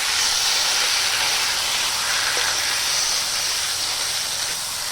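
A banana flower mixture cooking in a pan as its water boils off: a loud, continuous steamy hiss and sizzle, steady and close throughout.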